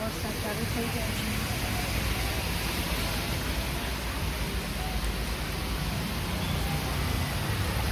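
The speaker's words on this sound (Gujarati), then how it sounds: "તો વરસાદ ચાલુ થઈ ગયો છે" Rain falling outdoors on a street while a covered motorbike stands nearby, a steady broadband hiss of drops holding at one level throughout, fairly close and without any talk.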